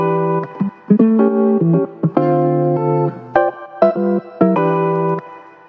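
A chopped, pitched-up music sample plays in short stuttering segments, bright tonal bursts starting and stopping in a choppy rhythm.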